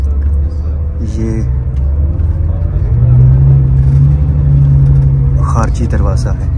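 A bus pulls out through the exit gate of Tehran's southern bus terminal, its engine rumbling low and close with a steady hum that swells midway, while a voice speaks over the noise.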